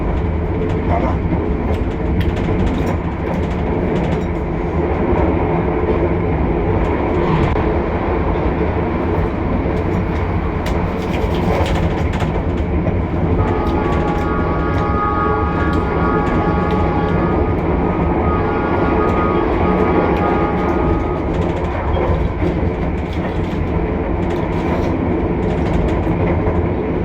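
Argo Semeru passenger train running on rails in Indonesia, a steady loud rumble with rhythmic wheel clatter heard from inside the carriage, a brief tonal squeal partway through.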